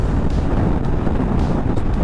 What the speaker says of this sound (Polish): Powiem Wam, że tu strasznie mi wieje.